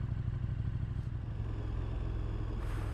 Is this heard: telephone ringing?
no